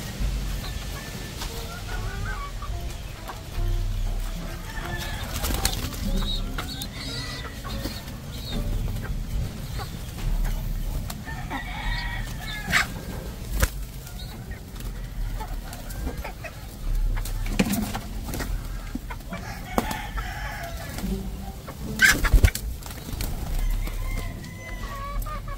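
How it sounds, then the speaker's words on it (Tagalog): Ice pigeons calling in a coop with other birds nearby, giving soft, repeated bird calls over a busy, rustling background that runs throughout. "Ice pigeon yan. Ice pigeon."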